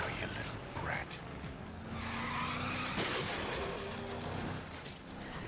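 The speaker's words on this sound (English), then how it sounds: "Rex actually does try to run them over in his car." A car skids with screeching tires in a scene from a kids' spy comedy movie as the driver tries to run children down, loud and sustained over an engine roar and background score, with a voice heard briefly.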